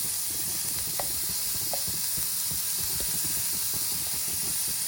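Food sizzling in a pan while being stirred, a constant loud hiss of frying with faint scraping and stirring clicks, close up and steady throughout, with no talk.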